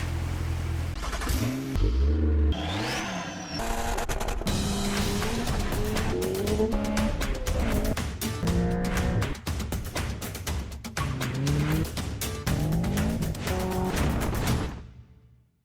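A C8 Corvette pulls away on a dreary winter day, its engine revving up through rising gear sweeps with a brief tire squeal early on, loud and close from inside the car, then cutting off abruptly at the end.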